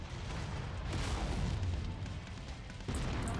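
An enemy mech's reactor blows up during MechWarrior 5 combat, giving a dense, rumbling explosion that rolls on for several seconds with a fresh thud near the end, loud and close.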